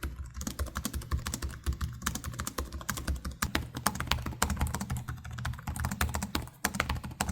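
Rapid, steady typing on a gaming laptop keyboard, either an Acer Predator Triton 14 or an Asus ROG Zephyrus G14 (2025), with dense clicky keystrokes close up and no talking.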